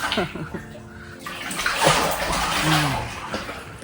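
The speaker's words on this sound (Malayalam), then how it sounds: "കലങ്ങിയ വെള്ളമായിട്ട് വരുന്നത്" Muddy water gushes steadily from a tap, splashing loudly nearby, with brief voices heard at the start before the flow takes over.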